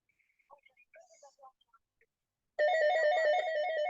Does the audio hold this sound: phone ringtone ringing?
yes